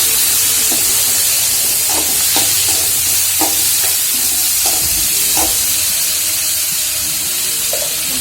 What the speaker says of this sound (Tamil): பூண்டு, தக்காளி எல்லாத்தையும் போட்டு கிண்டணும். நல்லா வதங்கணும்.